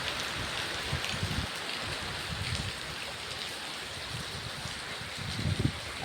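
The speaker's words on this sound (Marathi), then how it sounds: "तुम्ही माझ्या मागे बघत असाल पाऊस किती पडतो ते." Heavy rain falls on a village house, with water running and dripping from the gutters as a constant hiss broken by a few louder splashes.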